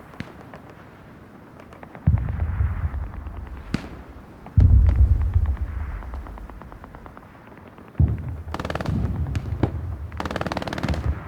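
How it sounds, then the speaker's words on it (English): Rocket blasts boom in the World War II shooter game Hell Let Loose: three heavy, close explosions land a few seconds apart, with rapid crackling gunfire rattling between and after them. "Oh, another rocket from Sergeant Nuts there."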